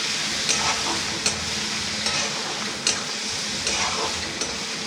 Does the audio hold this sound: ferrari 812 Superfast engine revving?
no